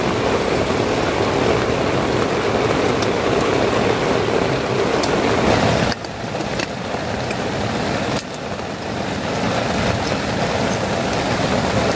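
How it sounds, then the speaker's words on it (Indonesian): Heavy rain falls on an old tent at a campsite, a dense, loud, continuous hiss and patter with two brief dips in intensity and no voices. "Tapi hujannya masih ada"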